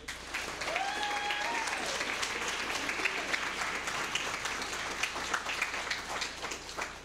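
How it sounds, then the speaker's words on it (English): Sustained applause from an audience at a school district board meeting honoring choir students, steady dense clapping for about seven seconds with a faint tonal whistle or voice early on. "Let's give a round of applause for that."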